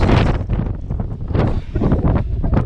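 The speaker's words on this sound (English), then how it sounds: "Windy though." Strong gusty wind buffets the microphone on exposed crags in the Cheviot Hills, a loud continuous roar rising and falling throughout.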